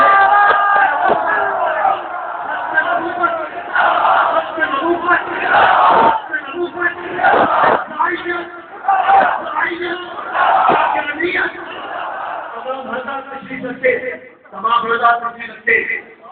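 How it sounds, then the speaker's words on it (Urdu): Rows of people at a religious gathering stand and chant slogans in unison, loud rhythmic shouted phrases rising and falling in repeated bursts with a lead voice calling between them. "کھڑے ہو کر آپ حضرات نعرے لگائے"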